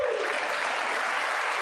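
Steady, dense applause from a large chamber audience at a State of the Union address, filling the whole moment evenly without a break.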